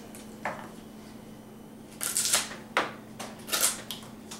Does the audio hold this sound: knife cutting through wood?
yes